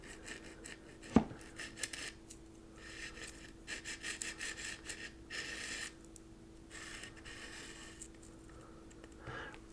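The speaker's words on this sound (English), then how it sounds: "sanding right here" Soft, uneven rasping strokes of hand sanding carved wood in short bursts, fairly close, with a sharp knock near the start and a steady low hum underneath.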